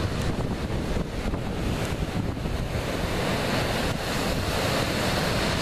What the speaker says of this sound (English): So one of the secluded spots here on the island you can come to, there's the beach.